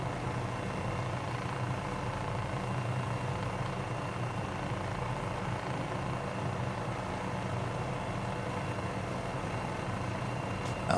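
A helicopter's steady engine and rotor drone runs continuously at moderate level while flying in the Mount St. Helens crater, with no voices.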